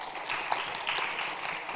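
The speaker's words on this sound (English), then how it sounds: "Can we give a huge round of applause, please?" An audience applauds at a tech talent event on stage, with brief, fairly faint, dense clapping that continues evenly for under two seconds.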